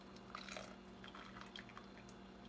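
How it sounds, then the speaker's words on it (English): Lemonade drips slowly from a pitcher in faint, scattered droplets over a steady low hum, with no talking. "Notice how it slowly drips."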